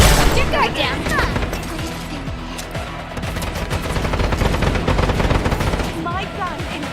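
Gunfire in the video game Stirnova, with rapid, dense bursts of shots and impacts, loud and continuous throughout, over busy game effects and brief chirping sounds.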